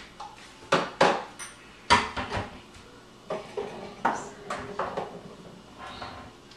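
A food processor fitted with a slicer blade cuts cherry tomatoes, making a series of sharp clattering, knocking bursts at an irregular pace, close and fairly loud, with no talking.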